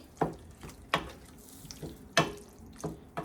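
Water splashing and dripping into a pan of prawn curry in several short, sharp bursts, close and fairly quiet, with brief pauses between splashes.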